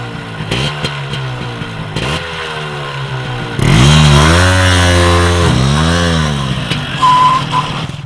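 A motorcycle engine revs hard and loud with rising and falling pitch after a stretch of lower idling and engine noise, close up, with no talking.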